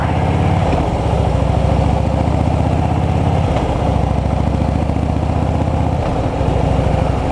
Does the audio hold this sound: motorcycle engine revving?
yes